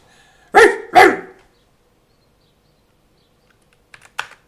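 A voice imitates a dog, giving two loud, close barks in quick succession, then silence, then a few faint clicks near the end. The voice belongs to Henry, the character in Kingdom Come: Deliverance.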